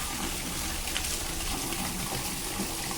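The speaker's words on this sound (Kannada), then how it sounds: "ನಾನು ಅಲ್ಲಿ ನೀರು ಬೀಳ್ತಿದ್ದಾವಲ್ಲ ಅಲ್ಲಿ ಮಳೆ ನೀರಿಗೆ ಬಗ್ಗೆ ಇಟ್ಟು ಬಂದಿದ್ದೀನಿ" Heavy rainwater pours and splashes steadily outdoors during a strong downpour in windy weather, a dense, continuous rushing wash of water filling the whole clip without pause.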